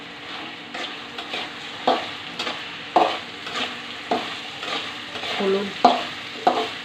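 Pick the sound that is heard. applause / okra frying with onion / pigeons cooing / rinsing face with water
okra frying with onion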